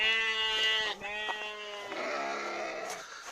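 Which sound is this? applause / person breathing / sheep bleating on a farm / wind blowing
sheep bleating on a farm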